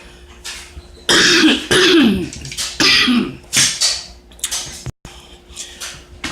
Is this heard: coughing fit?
yes